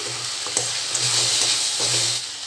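Onions, garlic and cashews sizzle steadily in a pan of hot oil while preparing a hotel-style paneer dish, with a broad continuous hiss and a few soft scraping stirs, close and alone.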